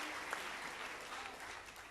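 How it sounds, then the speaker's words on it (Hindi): Clapping from an audience at a university poetry recital comes across as a continuous, even wash of many hands, fairly distant and soft, lasting about two seconds. "एक बार तालियां बजाओ"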